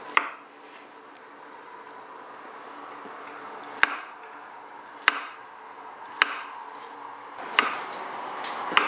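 Knife chopping through apples and bananas on a cutting board, a handful of sharp separate knocks spaced a second or so apart over a soft steady background hiss, no talking.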